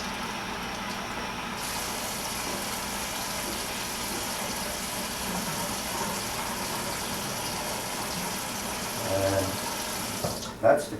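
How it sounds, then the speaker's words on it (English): Tap water runs steadily through a sausage casing at a kitchen sink, a continuous rushing splash that starts abruptly and ends with a few knocks, close and loud. "you have to open up the inside of it and run water through,"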